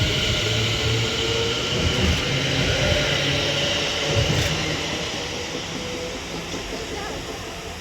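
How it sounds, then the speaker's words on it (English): A London Northwestern Railway electric passenger train rumbles and hisses steadily as it departs Hartford station on the West Coast Main Line, its broad roar slowly easing off, with faint voices mixed under the noise. "Now departing is going to be the delayed 13:45 London North Western Railway service to Liverpool Lime Street"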